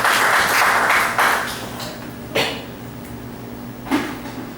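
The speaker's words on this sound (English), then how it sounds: "give a little round of applause to Georgia" An audience gives a short round of applause for Georgia; steady clapping for about a second fades quickly, followed by a few isolated thuds and knocks in a quiet room.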